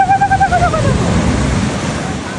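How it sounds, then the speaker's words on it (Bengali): Sea waves wash in as a steady, close surf roar, with a brief hooting voice-like call at the very start. "সমুদ্রটা দেখো"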